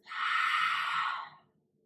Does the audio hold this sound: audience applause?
no